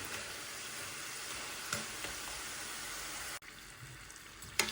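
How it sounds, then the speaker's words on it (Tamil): Vettu palaharam, a sweet snack, fries in hot oil with a soft, steady bubbling sizzle. It is heard quietly and up close, with a faint clink or two. "நல்லாவே பொரிஞ்சு கொண்டிருக்கு"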